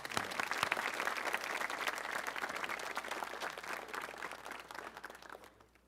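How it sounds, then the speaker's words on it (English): An audience at a high school honors assembly applauds Lindsay, a full, even patter of many hands clapping that carries for several seconds, then fades out quickly at the end. "One more round of applause for Lindsay"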